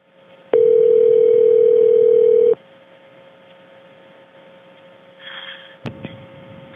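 A telephone on an emergency 911 call gives a loud, steady dial tone for about two seconds, then a faint line hum with a few soft clicks and rustles near the end.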